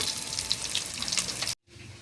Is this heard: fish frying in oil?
yes